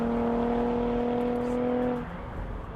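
A Chevy Camaro convertible's 3.6 liter direct-injection V6 with an 8-speed automatic pulls hard, a loud sustained engine drone with steady tonal harmonics for about two seconds before easing off abruptly.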